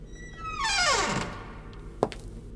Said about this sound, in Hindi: कुंवर ने धीरे से हॉल का दरवाजा खोला